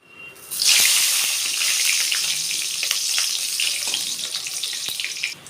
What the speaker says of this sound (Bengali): এবার আমি বেগুনগুলো সুন্দর করে একটু লাল লাল করে ভেজে নেব